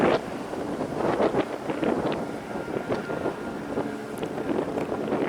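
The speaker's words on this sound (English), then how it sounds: "Wind really whipping now." Wind whipping across a golf course during a tournament round, a loud steady rumbling buffet of gusts against the microphone throughout.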